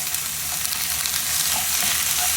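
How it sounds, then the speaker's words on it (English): Gurnard fish fries in oil in a pan, giving a loud, continuous close sizzle while the fish is turned, with faint scraping beneath the hiss. "Next, I'm going to just carefully turn the fish"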